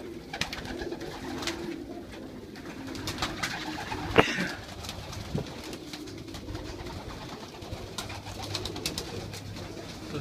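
Young racing pigeons coo softly and repeatedly in a loft, with low, murmuring calls overlapping throughout amid light rustling and a brief sharper sound near the middle.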